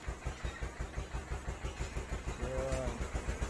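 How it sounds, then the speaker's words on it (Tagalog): Motor powering a muscovado sugar cane mill in Antique, Philippines, a low rhythmic chugging engine pulse that continues steadily, with someone talking over it. "Medyo maingay lang, kaya kasi umaandar yung motor eh."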